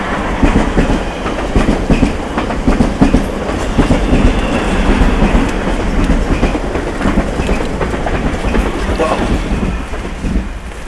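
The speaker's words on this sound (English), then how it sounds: "A train coming through." A train rumbles past close by, with steady clattering wheels on the rails and wind buffeting the microphone throughout.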